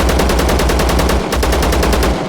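Loud, rapid fully automatic bursts from an AKS-74U rifle in the video game ZERO Sievert, evenly spaced shots with a brief gap midway, dominating the sound up close.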